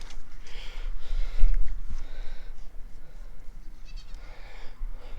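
On a family farm, goats bleat intermittently amid rustling and snuffling, moderately close, with soft handling noise and no clear speech.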